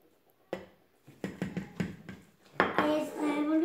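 A cup of walnuts is tipped into carrot cake batter in a bowl, making a short series of hard clattering taps before a voice and further rattling follow.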